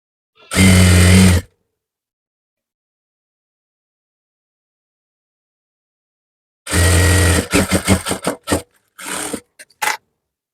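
Sewing machine stitching folded cloth during a tailoring class, heard as one loud burst of about a second, then a longer run of stitching breaking into short stop-start bursts near the end, with no talk.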